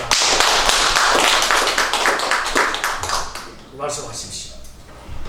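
Audience applause welcoming the main speaker at a press conference for a New York evangelism rally, a dense burst of clapping that fades and thins out toward the end, with some talk following.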